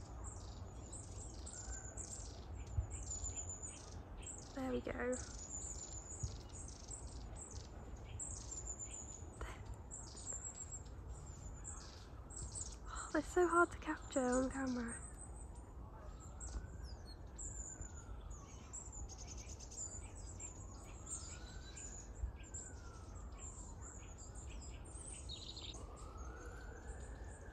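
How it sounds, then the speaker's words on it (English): Many birds chirping at an allotment feeder, a dense continuous chorus of high tweets heard from close by, with a rising and falling siren wailing in the distance and brief speech over it. "Oh, the birds, there's so many birds."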